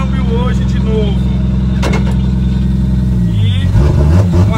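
A borrowed car's engine revs hard and steadily, close and loud, with the pitch shifting near the end as it accelerates.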